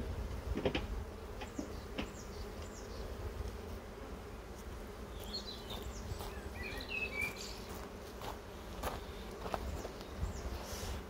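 A honeybee colony hums in the sun beside a hive as frames are handled, a steady insect drone throughout with soft wooden knocks and shuffling close by, no talking.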